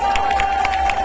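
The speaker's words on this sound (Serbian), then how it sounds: "I jedan aplauz za mlade." A festival crowd at an open-air concert at the 2023 Šabac summer festival claps and cheers loudly and steadily, with a constant wash of applause and scattered shouts throughout.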